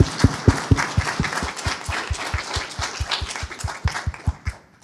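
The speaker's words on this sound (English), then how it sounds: "let's everyone give a round of applause to our speakers today" Applause at a nuclear energy technical conference, a small audience clapping in a steady, fairly even rhythm of distinct, close claps for about five seconds with no talking.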